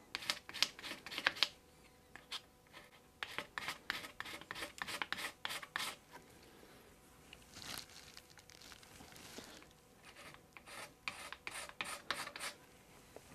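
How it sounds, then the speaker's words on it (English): A scraper rasps over dried wood filler on a wooden surface, making repeated short close strokes in quick bursts with brief pauses, loud and scratchy, with no talking. "let's scrape this and see what this looks like."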